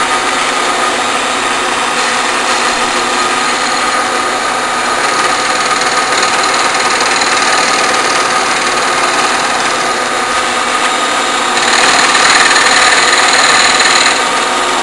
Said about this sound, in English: And ready now to mill this down.